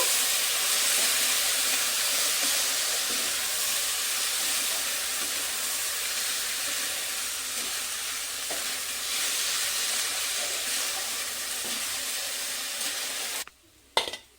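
Gobindobhog rice is stirred as it fries in a pan for a cauli prawn rice dish, making a continuous bright sizzle and hiss with soft scraping. A brief clatter comes near the end, and no one speaks.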